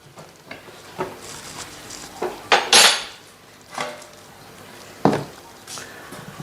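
Kitchen dishes and a gastronorm food container are handled on a table while preparing marinated chicken thighs, with scattered knocks, scrapes and clinks of crockery and utensils, some sharp and close, between quieter pauses.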